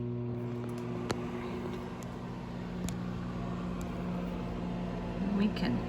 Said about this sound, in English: we put our plate in the microwave and we put it on for 30 seconds